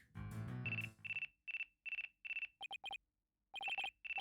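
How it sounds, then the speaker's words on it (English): A telephone rings in Phoenix Wright: Ace Attorney - Dual Destinies, several short electronic ring bursts repeating in a steady pattern, loud and clear with no talking over it. "Well, looks like I have a phone call."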